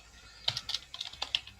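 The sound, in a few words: computer keyboard typing while renaming a folder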